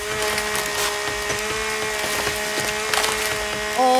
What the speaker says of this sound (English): Let's go ahead and equip the chainsaw.